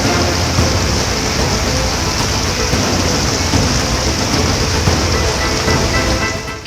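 Heavy rain pours onto a mountain road at Badrinath, a loud, dense and unbroken wash of noise that stays constant throughout, with no clear speech.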